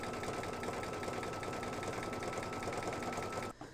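A home embroidery machine stitches out the white window frame detail of a mug rug design, a steady close mechanical hum with rapid rhythmic needle pulses running continuously before stopping abruptly near the end.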